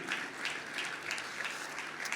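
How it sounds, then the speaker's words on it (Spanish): A church congregation applauds in praise, producing a steady patter of many hands clapping at moderate volume with a slightly distant, roomy feel and no talking. "Fuerte ese aplauso de alabanza al Señor."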